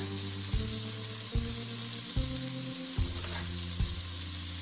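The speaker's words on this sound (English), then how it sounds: "So, butter is melting and it's too hot." Butter melts and sizzles in an overly hot pan as it is stirred, a constant close frying hiss under a low hum, with a regular series of soft knocks from the utensil.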